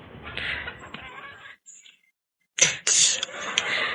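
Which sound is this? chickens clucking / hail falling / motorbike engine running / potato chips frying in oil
chickens clucking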